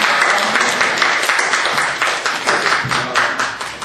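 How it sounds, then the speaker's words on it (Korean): Church congregation applauding during an afternoon worship service, a dense, steady round of many hands clapping throughout, loud and close, with no talk over it. "우리 한 박수 한번 해주시죠."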